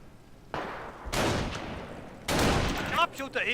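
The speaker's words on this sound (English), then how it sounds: "I hear that sniper going off" Shots crack out in the video game Valor, a few sharp bursts of gunfire with some rumbling between them, and a voice talks briefly near the end.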